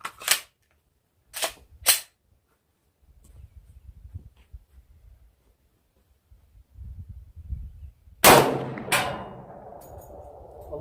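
Several sharp, loud gunshots from a stock Glock 20 Gen 4 10mm pistol with a 4.6 inch barrel: three quick reports early, then two more later with a ringing tail, quiet rustling in between.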